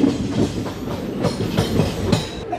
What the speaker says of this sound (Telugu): ఖమ్మం నుంచి మన ట్రైన్ అయితే బయలుదేరిపోయింది.